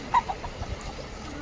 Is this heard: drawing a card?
no